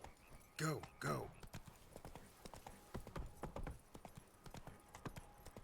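A horse's hooves clip-clop in the Witcher 3 video game, with a couple of loud near footfalls at the start followed by a quicker steady trot, under a talking voice.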